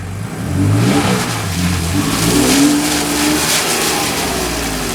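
A rear-drive Porsche with stability management engaged accelerates at full throttle, its engine revving hard and climbing in pitch over several seconds, loud and close without pause.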